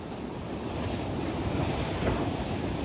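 Sea waves wash and break along a rocky shore at night during bass fishing, a loud continuous surging rush with wind noise, close by and rising slightly toward the end, with no voices.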